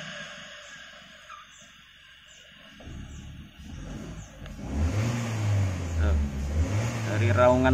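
A Honda Brio engine fitted with an HCS unit revs up sharply, rising quickly in pitch and growing louder after a quiet idle, with someone talking over it.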